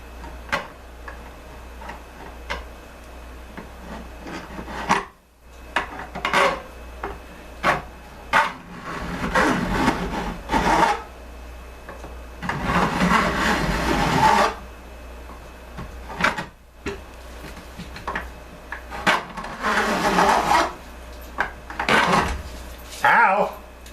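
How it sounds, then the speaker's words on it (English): A file beveling guitar fret ends, rasping in repeated strokes of varying length with short ticks and taps between them, close and fairly loud. "next we're going to bevel our fret ends here"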